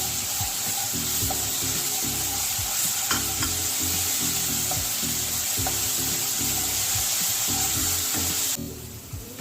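Chopped garlic fries loudly in oil with browned onions in a pan for Bengali-style doi katla, a constant close sizzle with rhythmic stirring scrapes that dies away just before the end.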